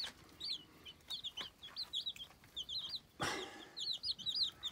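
Hens and chicks peck at salad, giving soft repeated clucks and high peeping chirps in quick irregular bursts, with a louder rustle or knock partway through.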